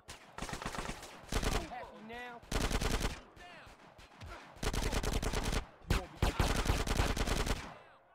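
Gunfire in GTA San Andreas Definitive Edition during a city riot: loud, rapid machine-gun bursts separated by short pauses, with game voices briefly audible between volleys.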